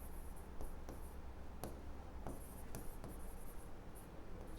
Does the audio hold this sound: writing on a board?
yes